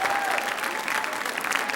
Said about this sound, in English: So please, one round of applause for all the parents who are sitting here